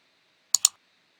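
Two quick, crisp computer mouse clicks close together, selecting a logo brush from a brush menu in a graphics program; isolated and near, with silence before and after.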